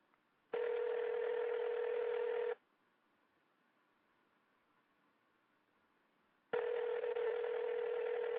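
Two long electronic telephone ring-back tones on a call, each about two seconds, separated by a long silent gap, steady and clear with no voices.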